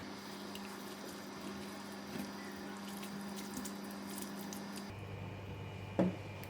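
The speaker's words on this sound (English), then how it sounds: "Like I'm going to add in the water now." Water pours and gurgles into noodle sauce in a pan for Malaysian mee goreng basah, a soft steady stream at close range that changes tone near the end, followed by a small splash.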